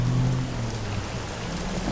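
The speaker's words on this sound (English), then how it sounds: "and the wind brought rain." Steady rain hisses as a dense, continuous wash of noise with a low rumble underneath, heard alone with no talk.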